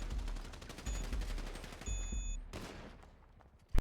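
Rapid automatic gunfire rattles in a video game, dense bursts of shots at a fast steady rhythm for a few seconds before stopping abruptly, loud and close, followed by one final sharp report.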